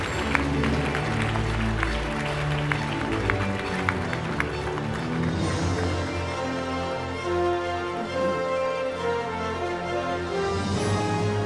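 A crowd at the Oregon Christian Writers Conference 2017 awards ceremony applauds the winners with a sustained, dense wash of clapping, mixed with voices and some background music, fairly loud and continuous.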